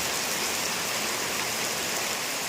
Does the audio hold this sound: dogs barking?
no